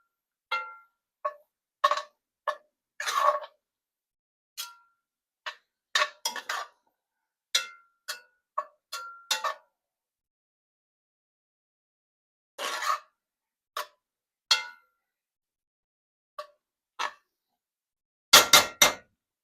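A utensil stirs flour into meatball gravy in a pan, giving sparse, irregular clinks and taps against the pan with quiet gaps between them.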